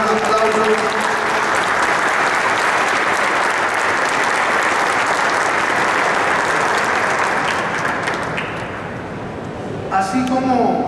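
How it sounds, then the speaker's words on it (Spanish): A crowd at the inauguration of the Salemma Lago shopping mall gives sustained, loud, dense applause for about nine seconds. The clapping fades out near the end, and a voice begins speaking. "vamos a darle un aplauso."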